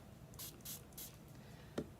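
Spray bottle misting water onto paint, a few short soft hissing bursts close by, faint and quiet, followed by a small tap.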